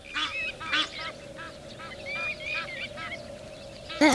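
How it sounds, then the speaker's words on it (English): Several geese honk in a run of nasal calls as they come in to land at a wetland in the United Arab Emirates, moderately close and repeated over a faint steady hum. "Look, geese."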